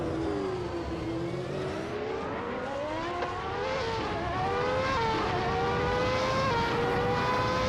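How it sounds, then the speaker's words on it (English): Engine of a Ligier JS41 race car on a tight, technical track, a loud, steady whine rising and falling through gear changes as it revs, alone with no talk. "Mission Man is driving a Ligia JS41, a car known for its balance but not for winning races."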